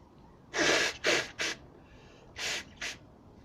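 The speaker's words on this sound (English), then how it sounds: "Sorry, to blow my nose." Several short, forceful nose blows, bursts of breathy noise separated by brief pauses, close and alone.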